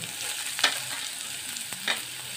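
Chopped onion and capsicum fry in a pan with a soft, even sizzle, broken by two quick scraping stirs of a spatula; close, quiet and with no voices.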